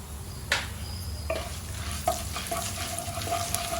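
Chana dal, urad dal and mustard seeds fry in hot oil for atukula pulihora, a steady close sizzle with a few sharp pops and crackles and light stirring scrapes throughout.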